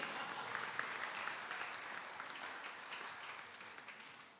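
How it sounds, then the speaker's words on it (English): An audience in Auckland, New Zealand breaks into applause, a dense wash of clapping that starts strong and gradually tapers off, heard faintly at a distance. "Applaud yourselves."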